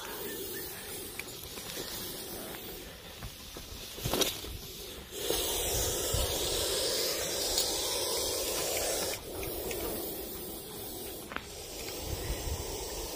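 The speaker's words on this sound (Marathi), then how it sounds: "जोरजोरात कुकरच्या शिट्टीसारखा आवाज करणारा हा साप." A Russell's viper hisses loudly and continuously, a long forceful hiss like a pressure cooker whistle, with a brief pause before it resumes, close up.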